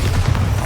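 A Bombarda spell explosion in Hogwarts Legacy, a short, loud, deep boom lasting under a second.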